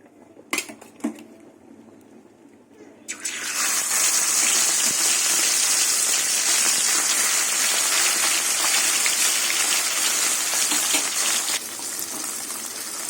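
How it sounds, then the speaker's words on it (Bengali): Bele fish dropped into hot mustard oil in a kadai: a few sharp clatters, then a sudden loud, bright sizzle bursts up and roars steadily for several seconds before easing slightly, close by with no talk. "তেল গরম হয়ে গেছে এবার মাছ দিয়ে দেবো মাছগুলো ভেজে নেব"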